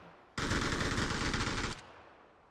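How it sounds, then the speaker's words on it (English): An MG3 machine gun fires a single sustained burst of rapid shots in a video game battle, loud and close, for over a second. The burst then stops abruptly and a short echoing tail follows. "The MG3 absolutely peppering the vicinity with bullets."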